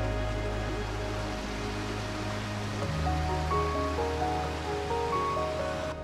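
Water flows steadily down a stream in a wooded ravine with small pools and little waterfalls, a continuous, fairly loud rushing wash with no voices.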